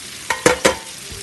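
Onion sautés with pepper and salt in a pan, a steady soft sizzle broken by three quick scraping stirs close by, with no talking.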